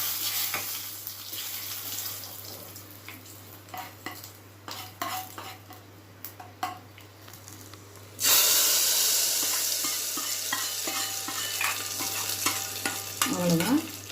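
Dried red chillies tempering in hot oil for a ponnanganni greens kadaiyal, a soft crackle with stirring clinks that jumps to a loud, steady sizzle partway through and holds, close by with no talk.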